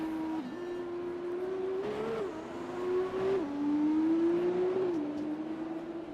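An F2 race car in a Monaco racing video game pulls out of the pits, its engine a steady, loud whine that climbs and dips through gear changes for several seconds, with no talk over it.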